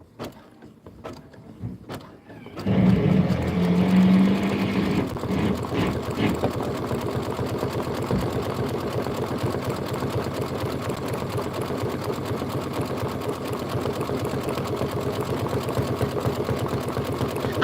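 An embroidery machine stitches steadily after a quiet start, its fast, even mechanical whirr and rapid needle chatter running close and continuous for most of the stretch.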